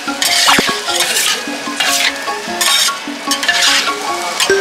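Beef offal grilling on a hot plate at a long-running Osaka shop, a steady close sizzle broken by repeated scraping and clinking of a metal utensil as the pieces are turned, with no talk.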